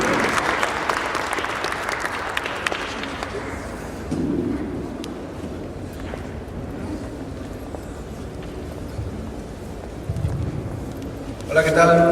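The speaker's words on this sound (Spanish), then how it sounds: "fuerte el aplauso por favor para recibirlo en este escenario" An audience applauds to welcome a speaker onto a stage at a presentation event, giving dense clapping that fades after the first few seconds into quieter crowd murmur and scattered noise, with a brief louder burst near the end.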